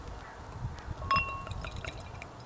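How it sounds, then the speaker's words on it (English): Brett Trois Pale, a 6.9% ABV sour beer from pFriem Family Brewers, is poured from a freshly uncorked bottle into a glass, a soft close trickle and splash with faint fizzing and small clinks, no talking. "And we're going to get the pour."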